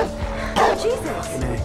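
A blind man's dog barks in a scene from the thriller film Don't Breathe, quick close woofs and yips over a dense film soundtrack with voices mixed in.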